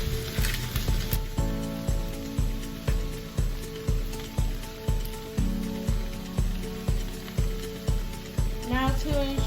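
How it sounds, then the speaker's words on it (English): Chopped cabbage and kale sauté in a hot pan, giving a constant sizzle broken by a steady series of sharp knocks and scrapes as the vegetables are tossed and stirred, loud and close. "to ensure that your vegetables cook evenly, you do want to give them a nice little toss throughout the cooking"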